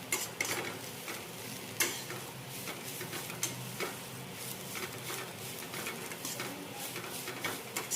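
Coconut peel and ridge gourd peels dry-roasting in a pan, with a faint crackle and repeated light scraping and ticking of a spatula stirring close up.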